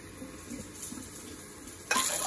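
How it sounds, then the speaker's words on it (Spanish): Water pours into a measuring cup while making Mexican-style red rice, a soft steady trickle that swells into a louder, brighter splash near the end. "vamos a medir cuatro de agua"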